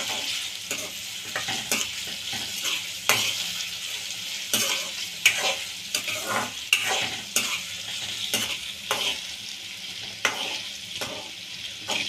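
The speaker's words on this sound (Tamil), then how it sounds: "ஆயில் ஹீட் ஆனதுக்கப்புறமா வெங்காயத்தை போட்டுக்கலாம். ஸோ ஆனியனுக்கு அப்புறமா இஞ்சி பூண்டு பேஸ்ட்டு போட்டுக்கோங்க." Onion and ginger garlic paste fry in plenty of hot oil for a crab curry while a spoon stirs and scrapes the pan. Close, rhythmic scraping strokes repeat over a steady sizzle.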